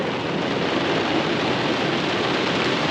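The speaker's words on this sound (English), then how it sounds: "We're getting just a little bit of rain." Light rain falls outdoors, an even, soft wash of fine patter with no distinct drops standing out, steady throughout and with no voices.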